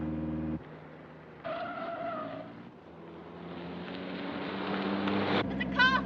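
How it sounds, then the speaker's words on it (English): Car engine from the 1940 film Night Train to Munich, roaring and revving with rising, whining tones and a skidding squeal, continuous and fairly loud with a brief break. "There's a car following us."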